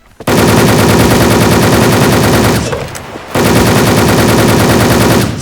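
Rapid automatic gunfire in the online shooter Wolfteam rattles loud and continuous, a sustained burst, a brief pause near the middle, then another long burst.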